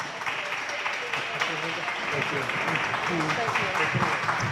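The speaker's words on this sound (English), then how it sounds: "Everyone, please give her a big round of applause." A town hall crowd at a Republican back-to-school event applauds a guest, a continuous dense wash of clapping heard under a speaking voice.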